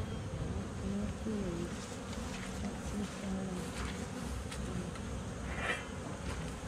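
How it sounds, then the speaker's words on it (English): A steady, dense hum of many honey bees buzzing close by, continuous and droning throughout with no voices. "Plenty of bees."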